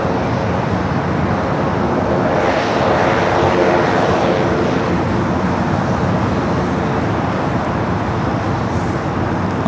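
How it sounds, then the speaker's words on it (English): Boeing 777 freighter landing at Los Angeles airport, its engines a loud, steady roar that swells slightly mid-approach as it nears touchdown. "Also have that 777 freighter about to touch down here on the south side"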